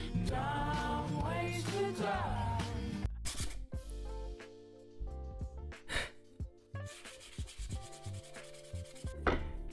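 Sanding by hand on a DIY 3D sculptural wall art panel, with repeated close rubbing strokes in bursts and pauses, nearby and fairly clear, with no talking.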